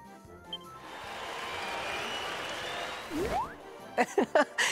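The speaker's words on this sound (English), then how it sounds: "I could not hear you over the noise of the crowd." Crowd noise in the video game Dragon Quest XI: a broad, continuous murmur and cheer from a large crowd at moderate volume, followed near the end by a few short game sound effects.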